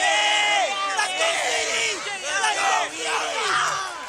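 High school football fans of the Central Dauphin side cheer and whoop nearby, a loud cluster of excited yells and shouts rising and falling in several bursts across a few seconds, with crowd chatter underneath.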